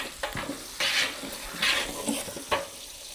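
Fennel seeds and chillies frying in oil for pumpkin sambar, soft sizzling punctuated by a few hissy bursts and light utensil taps as the pan is stirred, close and fairly quiet.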